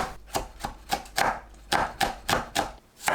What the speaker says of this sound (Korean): 쪽파, 청양고추, 홍고추를 작게 썰어줍니다.